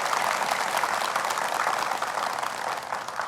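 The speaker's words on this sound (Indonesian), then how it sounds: "Tepuk tangan Ibu." A studio audience of women at a televised religious sermon gives sustained, even applause, a soft dense patter of many hands clapping together without pause.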